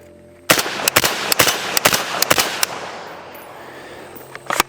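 A suppressed AK-47 rifle chambered in 5.56 fires a rapid string of about eight loud, sharp shots over roughly two and a half seconds, and the reports fade into a lingering tail afterward.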